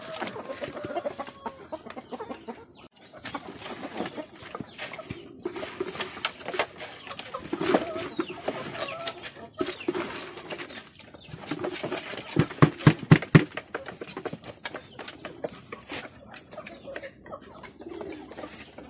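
Native chickens on a farm in the Philippines cluck and coo steadily at close range, with a brief burst of louder clucking near the end and no talking over them.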